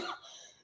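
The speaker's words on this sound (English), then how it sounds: "I can't get rid of this cough." A single short cough from an adult indoors, close and fairly quiet, heard alone with no talk around it.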